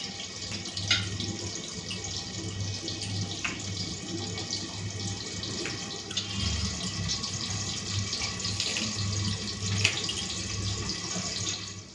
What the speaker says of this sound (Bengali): চলুন একটুখানি বেছে নিই ধুয়ে নিয়ে তারপরে বেটে নেব